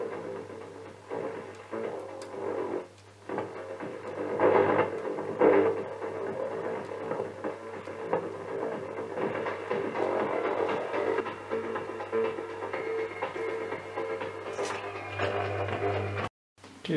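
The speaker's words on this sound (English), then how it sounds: "using a signal generator here as a carrier, I'm just modulating it with a signal to try and make my own channel here" A 1930s valve radio chassis tuned to a carrier from a signal generator, modulated with a test signal, giving a steady hum and throbbing tone with some broadband static, continuous and fairly close, cutting out briefly near the end.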